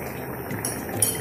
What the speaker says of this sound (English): The boil has come.